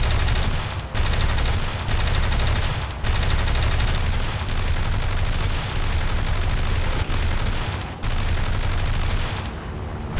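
Sustained aircraft cannon fire in the War Thunder air-combat game, loud continuous bursts of rapid automatic shots broken by short pauses, close and dominant with no talk.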